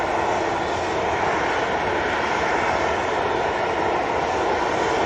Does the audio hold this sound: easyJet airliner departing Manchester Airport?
yes